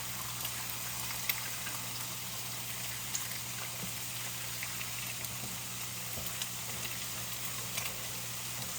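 Three eggs frying in a pan, a steady close crackling sizzle with small pops throughout, no talking.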